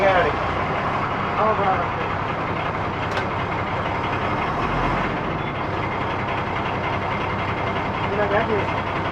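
A Shivshahi bus engine idles with a steady low rumble under constant background noise, with a few faint beeps and some talk around it.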